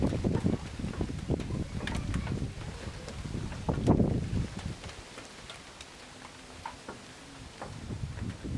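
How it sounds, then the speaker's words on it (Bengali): Strong gusts during a heavy rainstorm roar and buffet close against the microphone, surging and easing with a steady rushing wash underneath. "দেখুন কেমন হাওয়া হচ্ছে"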